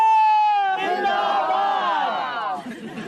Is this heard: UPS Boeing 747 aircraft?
no